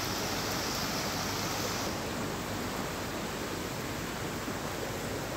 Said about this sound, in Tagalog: Ang sarap pakinggan ng tubig.